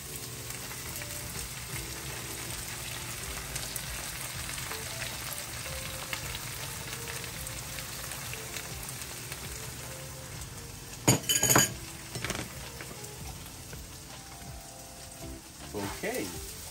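An egg fries in a pan with a low steady sizzle, joined later by sharp clinks of glass or cutlery and a few clattering knocks, heard close and moderately quiet.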